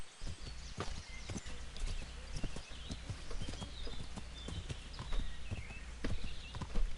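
Horse hooves clip-clopping in the video game Kingdom Come Deliverance, a steady trotting rhythm of close hoof beats over a soft outdoor ambience, moderately loud with no talk.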